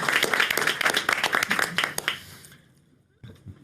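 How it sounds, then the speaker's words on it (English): A press conference audience claps with loud, distinct claps for about two seconds, then fades to quiet, followed by a brief soft sound. "Let's give them all a round of applause."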